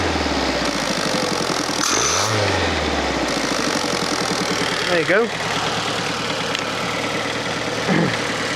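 A Fiat Panda 4x4 Sisley with an upgraded fuel injection system idles steadily up close, its low engine note rising and dipping as fuel cuts out and then comes back in. Someone speaks briefly over it.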